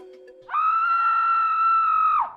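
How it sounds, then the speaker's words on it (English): A single loud, sustained high-pitched scream in the iOS horror game Banshee's Last Cry, holding steady for nearly two seconds before breaking off, preceded by a brief low tone. "I heard a scream coming from the guest room"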